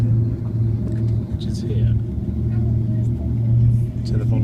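Cable car climbing a mountain toward a monastery abbey near Barcelona, a steady low mechanical rumble and hum running throughout, close and continuous, with a person talking over it.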